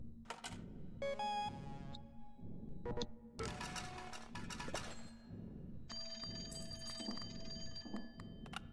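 A phone rings in the video game CloverPit, sounding as several short electronic ring bursts with pauses between them, mixed with other game chimes and tones at a steady level.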